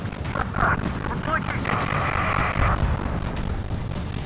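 Missile explosions and rapid weapon fire during an aerial dogfight in the video game Ace Combat 7, a dense, continuous barrage of booms and blasts with radio voices over the top.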